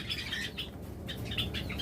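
Pairs of pet birds in cages chirp and tweet in lively clusters, one burst, a short pause, then several more, sounding nearby over a faint steady hum, with no voices.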